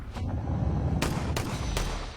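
Sharp gunshot-like cracks stand out over a constant low rumble on a military base at night. There are about four of them, irregularly spaced, sounding distant to mid-range, with no voices.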